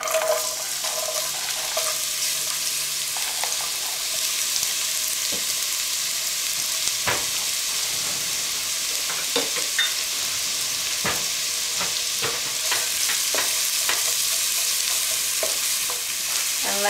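Chopped onions sizzle and crackle in a hot pan for butternut squash soup, a loud, steady frying hiss broken by occasional stirring clicks and scrapes, with no talking.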